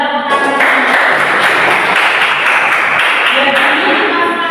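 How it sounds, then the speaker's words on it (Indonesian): A class of students claps hands together, a dense sustained burst of applause filling the room for a few seconds, with faint voices mixed in. "Coba tepuk tangan"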